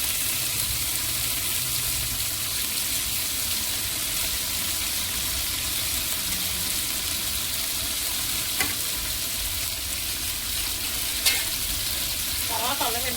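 A continuous frying sizzle rises from the pan as mint leaves are added for biryani, with a few faint stirring clinks near the end and no voices heard.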